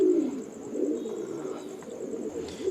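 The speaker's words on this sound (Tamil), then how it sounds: "இந்த புறா இந்த வருஷம் ஓட்டி வச்சுருக்குதுங்க" A domestic pigeon kept by a pigeon fancier in Coimbatore gives a low, soft, continuous cooing close by, with faint background noise and no talk.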